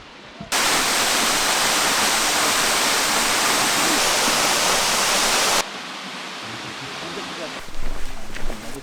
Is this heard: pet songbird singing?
no